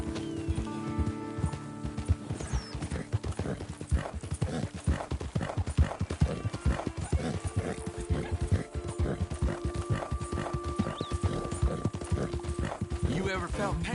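Horse hooves clip-clop in a steady, rapid rhythm throughout a Red Dead Redemption 2 game scene, close and continuous, with soft ambient tones and some voice underneath.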